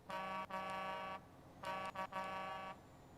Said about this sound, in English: it has the original horn of the real man truck